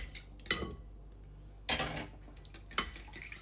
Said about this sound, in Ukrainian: Мені вінчиком краще, ніж ложкою розмішувати.